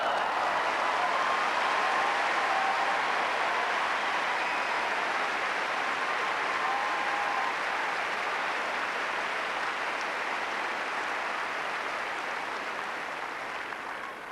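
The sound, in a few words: tennis crowd buzzing and applauding after a long grass-court rally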